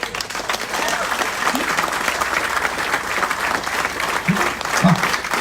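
Audience applause at a business mentoring and public speaking event, a dense steady clapping from a large crowd that holds evenly for several seconds and swells slightly near the end.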